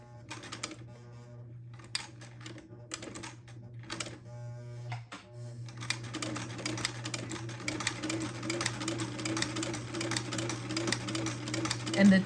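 Sewing machine stitching a buttonhole with a template: bursts of rapid mechanical clatter that start and stop, then run steadily and grow louder, over a constant motor hum.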